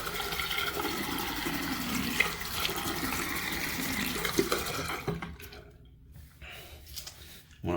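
Steady warm running water pours for about five seconds, splashing onto wet hair, then cuts to quieter, uneven trickles and drips.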